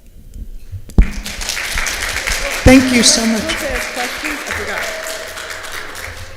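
A crowd at the opening ceremony of the 2022 Petersheim Academic Exposition applauds and cheers after a sharp opening clap, with the applause swelling and then holding steady as a speaker's voice thanks them over it.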